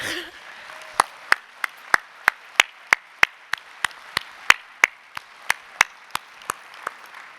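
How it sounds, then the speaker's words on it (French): Slow, evenly spaced single claps, around twenty sharp hand strikes at a steady beat over faint room murmur, at a French awards ceremony honouring a researcher. "donc déjà on peut l'applaudir"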